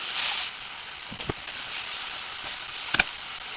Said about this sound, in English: The first thing that we want to do is cook off our onions, our garlic, and our mushroom.